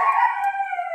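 A caged dog lets out one sustained, loud, tonal howl-like whine, held close by for about a second with steady pitch and little else around it.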